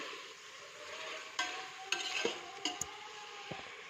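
Spices are stirred into chicken frying in a pan for chicken shorba, with a soft steady sizzle and several sharp clinks and scrapes of a spoon against the pan, close by.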